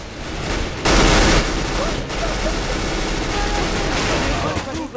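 Gunfire in the video game Counter-Strike: a dense burst of shots lands around the first second, followed by further scattered firing that runs through the whole stretch, with continuous game noise beneath and speech mixed in.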